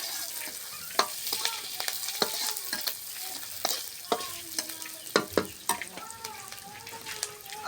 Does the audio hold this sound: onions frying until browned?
yes